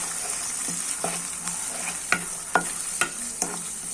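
Spices for egg curry get stirred in a sizzling pan, a spoon scraping and knocking against the metal in several distinct strokes over a steady frying hiss.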